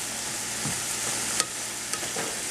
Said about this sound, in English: this has been sauteing for about 5 minutes, 4 or 5 minutes, 6 minutes, almost.